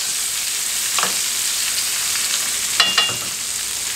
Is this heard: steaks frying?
yes